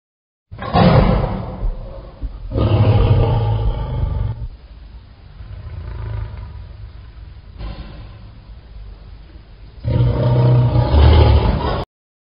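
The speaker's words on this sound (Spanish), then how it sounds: "león," A deep, rumbling big-cat roar repeats in several long surges with quieter growling between, loud and close, no talking.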